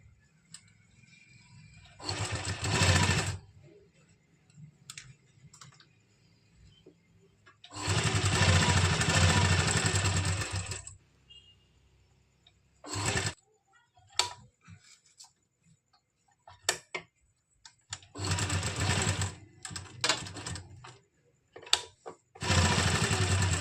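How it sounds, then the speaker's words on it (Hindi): A sewing machine stitches around a kameez neckline backed with buckram, running in several bursts of whirring stitches separated by quiet pauses and small handling clicks, close and clear. "यहाँ पर जो हमारा गला है बुकरम वाला, इसके साथ साथ हम इस तरह से पूरे में सिलाई लगा देंगे"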